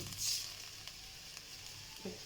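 Garlic frying in a pan for molokhia, a soft, steady sizzle that stays faint and low throughout, with a brief hiss near the start and no talking.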